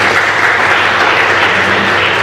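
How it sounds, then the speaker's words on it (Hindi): Audience applause at a book launch event, a dense, continuous roar of clapping that stays loud and even throughout with no voices standing out. "इनके लिए एक बार जोरदार ताली।"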